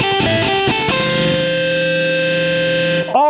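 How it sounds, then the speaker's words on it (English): Loud, buzzing electric guitar played with heavy distortion and unmuted low strings, a dense ringing wash of sustained string noise with a few picked notes near the start, dying away abruptly near the end. "All this wonderful noise is happening because I'm not muting the lower strings at all."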